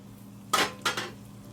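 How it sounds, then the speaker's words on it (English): A lid lifted off a pot of cooked quinoa, giving two sharp metallic clanks about a third of a second apart, close and fairly loud against a quiet background. "I cover it, so I'm removing the cover."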